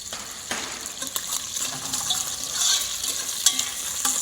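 A spoon scrapes and stirs bacon in a pan of tomato sauce with bay leaf and peppercorns, making repeated wet scrapes and clicks over a light bubbling sizzle, close and fairly loud, with no voices.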